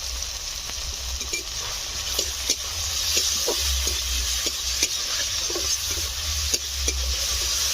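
Onion, green chilli, garlic and ginger paste, tomato paste, turmeric and salt frying in hot oil in a pan for a prawn curry, a steady close sizzle with occasional stirring clicks throughout, no talking.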